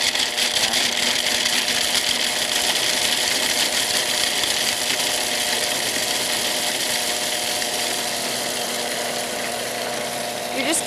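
A countertop appliance spins and grinds nuts into a powdery cheesecake crust, giving a loud, continuous whirring roar close up that holds steady throughout, with no voices.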